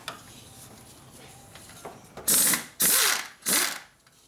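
A ratchet wrench turning on a Harley-Davidson Sportster motorcycle part gives three loud, close bursts of clicking in the second half, following a quiet stretch with faint workshop noise.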